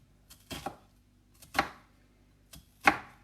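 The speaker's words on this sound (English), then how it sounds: "And then I'm going to go down the onion this way" A knife chops an onion on a cutting board in three separate sharp thuds about a second apart. The cuts are close and fairly quiet, and nothing else is heard.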